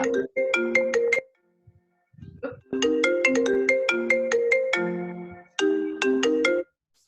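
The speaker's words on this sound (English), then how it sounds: "I don't know why that's ringing. My phone's on Do Not Disturb." A phone ringtone plays a bright repeating melody in short bursts, pausing briefly between phrases, clear and close.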